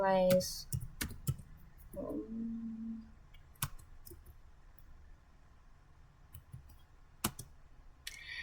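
A few sparse, sharp keyboard clicks sound as a short command is typed at a computer terminal, with a brief stretch of speech early on and quiet room noise between the keystrokes.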